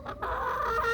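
Chickens clucking inside a backyard coop, a steady overlapping murmur of hen calls and short squawks close by, with no one talking.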